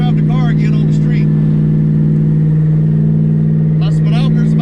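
A car fitted with a T56 Magnum manual transmission drives on the street on tall tires and tall gears, its engine holding a loud, steady drone that runs through the whole stretch while someone talks over it.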